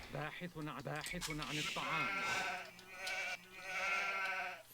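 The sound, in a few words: sheep bleating in a strategy video game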